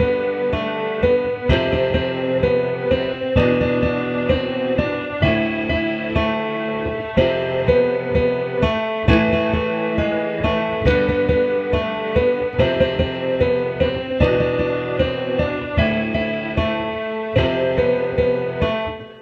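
Piano plays the 1954 Godzilla (Gojira) theme melody, a steady rhythmic run of repeated chords and notes, loud and close with no talking over it.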